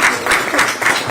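A short burst of audience clapping in thanks at a Democratic Party meeting in Gangwon, steady and fairly loud, with no voices over it.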